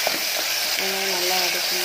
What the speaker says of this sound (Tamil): வெங்காயம் போட்டாச்சுமா, நல்லா வதக்கணும்.